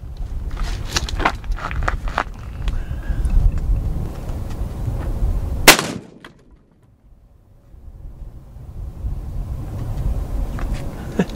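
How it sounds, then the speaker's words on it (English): A single sharp, loud report from a Ruger American Predator rifle in .308 firing a 189 grain Remington Core-Lokt round at homemade body armor, standing out from outdoor background noise and followed by a brief quiet. "we're gonna be firing 189 grain core locked Remingtons at our homemade body armor"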